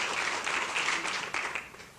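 Crowd at an Irish celebration claps for the parade queen, a brief, lively burst of many hands with a few sharper claps standing out, fading slightly toward the end.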